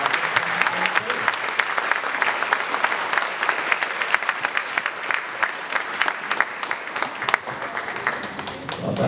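A crowd gives sustained, dense applause for Year 6 students graduating from primary school, many hands clapping close and loud for several seconds before tapering off slightly at the end.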